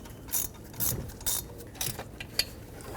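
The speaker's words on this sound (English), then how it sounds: "Start the bolt in." Ratchet wrench clicking in short bursts as a 13 mm bolt is started and tightened on the thermostat housing of a 4.0L V6 Ford Ranger engine, close and crisp with quiet gaps between strokes.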